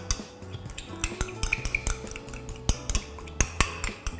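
Separated egg yolks are stirred in a bowl for Thai golden threads, with a utensil clinking and tapping against the bowl in quick, irregular strokes, close and fairly loud.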